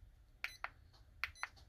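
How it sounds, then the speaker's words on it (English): A SaeboStim ONE electrical stimulation device, placed near the top of the upper arm, gives short, faint electronic beeps after its power button is held, in two close pairs against a quiet room. "Press and hold the power button till you hear a beep"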